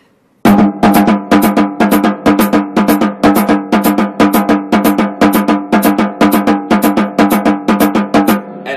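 Electric guitar string bends picked in a tight syncopated sixteenth-note rhythm, a steady run of sharp, evenly repeated bent notes, loud and close with no talking.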